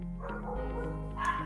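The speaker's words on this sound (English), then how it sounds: "Oh, my dogs. Any reason to bark, they'll find it." Dogs barking indoors: a short burst of muffled, tonal barks and yips, somewhat distant, over a low steady background hum.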